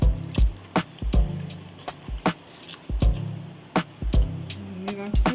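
Banana slices dropping one after another into a bowl of soaking liquid, each landing as a short wet plop with small drips, spaced irregularly, close and fairly loud with no talk.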